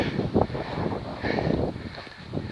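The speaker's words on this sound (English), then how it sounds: "It's really windy up here" Strong wind buffets the microphone on an exposed hilltop at night, a steady roaring rush with louder gusts, heard alone with no voices.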